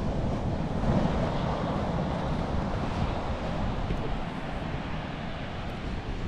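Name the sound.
ocean waves and wind at Baker Beach, San Francisco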